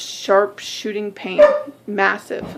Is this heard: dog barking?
yes